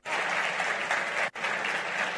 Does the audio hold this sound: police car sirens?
no